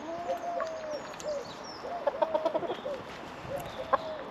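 Two hens in a small isolation run and coop in a garden cluck softly, a quiet run of short rhythmic clucks with a few louder calls, close by and without talk.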